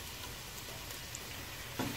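About 400 grams of sliced onions frying in hot coconut oil for a Malabar mutton dum biryani, giving a steady, dense close sizzle with a brief clatter near the end.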